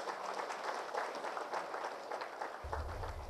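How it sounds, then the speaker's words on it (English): Audience applause welcoming a guest speaker at the launch of the PNG National Party, a steady wash of clapping from a gathered crowd heard for the whole stretch. "please give him a round of applause"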